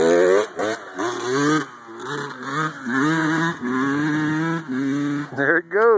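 A two-stroke Yamaha YZ dirt bike engine, warmed up, revs near and loud in repeated rising and falling bursts with short dips between, alongside another small trail bike.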